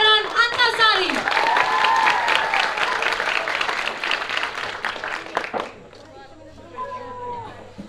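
Lively audience applause for the Pangeran Antasari group at a school speech and performance event, dense clapping filling the room for about five seconds before fading out as a voice begins speaking.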